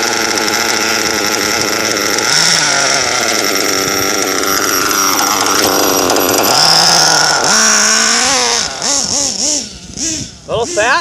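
A Nova 28.8 REX nitro engine in an XTM ST Muggy truck runs loud and close with a high, buzzing whine. It holds steady, then revs up and down in quick surges toward the end.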